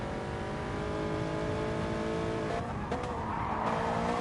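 A race car in a GT3-class racing video game slides with oversteer out of a corner, its engine droning steadily while a rising tire squeal cuts in near the end, loud and close with no talk over it.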